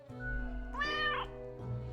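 A cat meows in the video game Death and Taxes: one clear, rising-and-falling meow in the middle over a low, steady game music bed, close and moderately loud.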